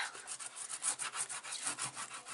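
Paper being rubbed down on a mini album, a series of quiet, close scratchy strokes in an irregular back-and-forth rhythm.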